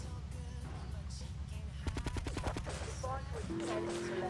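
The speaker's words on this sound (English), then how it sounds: "Wait, they're shooting at me." Police open fire in Grand Theft Auto: The Trilogy: a rapid burst of about eight to ten gunshots rattles out in quick succession over a constant low engine-like hum, followed by a sustained tone near the end.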